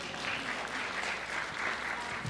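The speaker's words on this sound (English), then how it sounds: "You can clap for that one." Audience applause at a public meeting in a high school, a steady dense wash of clapping from many hands throughout, fairly quiet and distant.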